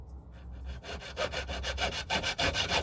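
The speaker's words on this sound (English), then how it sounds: "if you use a smaller blade on cutting tube, you have a lot more success" A small jeweler's saw with a fine blade cuts through a metal jewelry tube. About a dozen quick, rasping back-and-forth strokes come in close, steady rhythm, with no talk.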